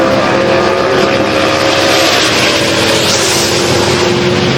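A Ford Mustang drag race car from McLean Motorsports makes a pass at a Sick Week drag strip event, a loud continuous engine roar with steady broadband rushing and a slight pitch rise, heard alone.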